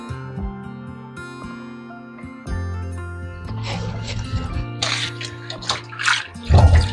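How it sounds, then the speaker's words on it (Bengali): Bottle gourd greens being washed by hand in a basin of water, with splashing and sloshing that grows louder and busier toward the end, under a faint tonal background. "চার পাঁচবার করে জল পাল্টে পাল্টে এভাবে ধুয়ে নেব"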